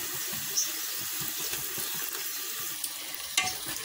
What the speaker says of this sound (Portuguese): O nosso tempero já está bem refogadinho, agora eu vou despejar a carne picadinha.